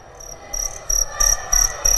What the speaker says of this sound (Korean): 아름다운 울음소리로 유명한 귀뚜라미